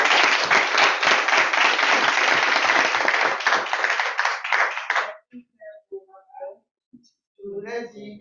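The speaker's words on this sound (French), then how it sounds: "On l'applaudit." Audience applause at a Toastmasters debate, dense steady clapping for about five seconds that stops abruptly, followed by scattered faint sounds and brief voices.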